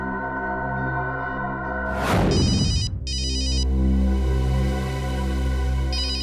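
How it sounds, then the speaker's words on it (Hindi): An old-style telephone bell rings loudly in a tense indoor scene, two long electric rings separated by a short gap, then a third ring beginning, with a sharp clatter near the start. "अननोन नंबर हो सकता है, ये अखिल का फोन है, उठाइए।"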